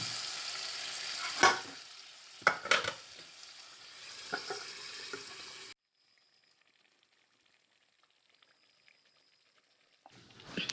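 Pointed gourd and potato curry with spices and a little water cooking in a pan gives off a busy sizzle and stirring scrape for about six seconds, then goes almost silent, with a brief clatter at the very end.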